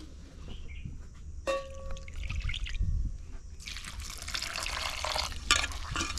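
Running water splashes and trickles steadily, growing louder and broader partway through, as banana stem is rinsed under the flow close by.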